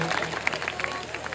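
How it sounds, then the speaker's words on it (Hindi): Audience applause at a Haryanvi comedy show, a burst of scattered clapping with crowd noise, brief and fairly close, mixed with murmuring voices. "जोरदार तालियां बजाए"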